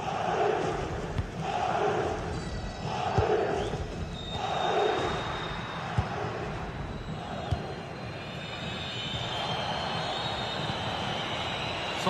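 Stadium crowd in a football video game swelling into a loud, sustained roar, with rhythmic surges of chanting early on that settle into a steady, dense wall of noise.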